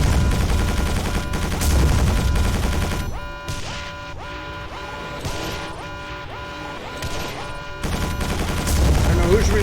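Gunfire in Quake 4, loud rapid bursts of automatic weapon fire broken by short gaps, close and dense, with a spoken voice briefly over the shooting.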